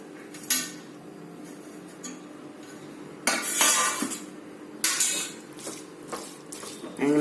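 Masala cheese Maggi noodles being mixed in a bowl, with repeated sharp clinks and scrapes of a spoon against the dish in irregular bursts.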